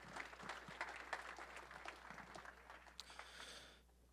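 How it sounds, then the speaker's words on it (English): Audience applause at a mastermind business event, a dense, steady wash of clapping from a group that holds for several seconds and then drops off sharply, heard at moderate distance. "Give him a round of applause."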